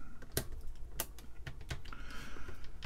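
Keys pressed one at a time on a Unitrex 800K electronic calculator with bouncy, partly failing keys, giving sparse, fairly faint clicks close by with no talking.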